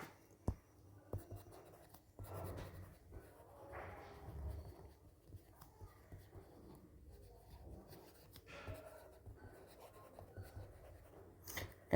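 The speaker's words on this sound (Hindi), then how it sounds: "तो यहाँ पे लिखेंगे हम लोग" Pen scratching on paper while notes are written during a classroom lecture, with faint intermittent strokes and taps, close but quiet, and no clear talking.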